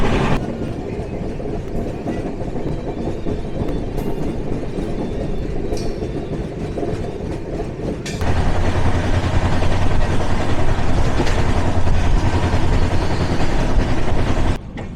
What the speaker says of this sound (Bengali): ট্রেন ঢুকছে বিজয়নগরম স্টেশনে।